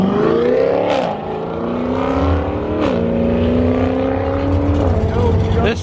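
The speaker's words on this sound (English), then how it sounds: "This truck is louder than all holy heaven." Loud truck engine at a cars and coffee meet, droning steadily and rising in pitch as it drives past close by for about six seconds, with a couple of sharp gear-shift dips and voices in the background.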